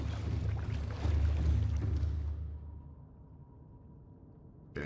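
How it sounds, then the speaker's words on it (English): The Cyclops submarine engine in the game Subnautica powers down: a dense low mechanical rumble and whoosh cuts off sharply, leaving a thin fading hum that trails into quiet. "Engine powering down."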